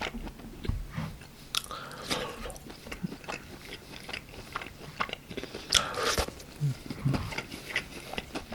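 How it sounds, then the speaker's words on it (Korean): Close, crisp crunching and biting on BHC cola pop fried chicken bites, with repeated wet chewing in an irregular rhythm across the whole stretch and no speech. "일단은 콜팝 이거 궁금하니까 한번 먹어볼게요"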